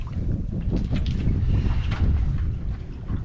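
Wind gusting across an open bay while crabbing from a small boat, a steady roaring rush with low buffeting against the microphone that swells and eases without letting up.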